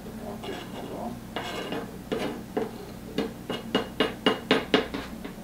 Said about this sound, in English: we're continuing our chopping here